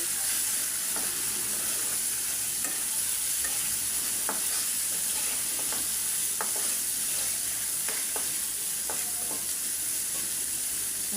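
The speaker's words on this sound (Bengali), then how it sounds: "একটু আদা রসুন দিলাম, মিশাই নিই।" Small fish stirred with ginger and garlic in a hot pan without water, a constant soft sizzle broken by irregular scraping and clicking strokes of a spatula, close and alone.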